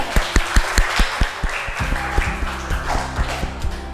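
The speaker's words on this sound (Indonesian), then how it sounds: "tepuk tangan dulu buat Fali." A classroom of students claps for a classmate during a group presentation in a teacher-training lesson, the applause starting as sharp, evenly spaced claps and then thickening into a denser burst with faint voices underneath.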